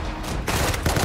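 Bursts of gunfire in the video game Unturned, a rapid volley of loud close shots filling the short moment with no talk over it.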